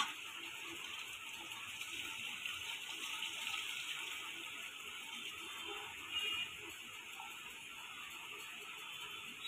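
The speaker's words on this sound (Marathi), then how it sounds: "टोपात ठेवलेलं पाणी आपण ह्याच्यात ओतूया." Steady, continuous rush of hot water poured into a pot of mutton curry, even and unbroken throughout with no talking.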